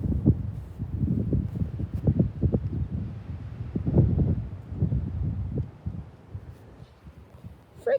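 Strong wind buffets an outdoor microphone in a continuous low roar with repeated heavier gusts, easing toward the end.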